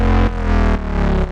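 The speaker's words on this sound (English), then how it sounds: "we're actually going to add some distortion on this" A deep Serum synth bass note pulses in repeated sustained hits, its tone thick and gritty with soft clipping distortion, loud and alone.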